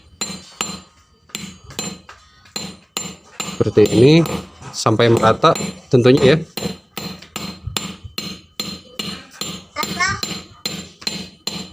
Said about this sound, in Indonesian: ketuk lagi menggunakan palu